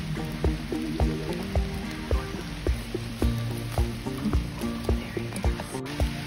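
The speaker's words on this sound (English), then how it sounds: "Seems that rain that I thought was gone really isn't gone." Rain patters around a campfire outdoors, a steady close wash of drops with repeated soft knocks and taps against a constant hiss.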